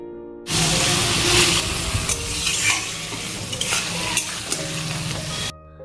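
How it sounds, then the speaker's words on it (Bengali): Carrots, beans and capsicum frying in a kadai for fried rice, stirred vigorously; a loud, close, continuous sizzle with scraping spatula strokes, starting abruptly and cutting off near the end. "মা এগুলোকে ভালো করে নাড়াচাড়া করে একটু ভাজা ভাজা করে নেবে"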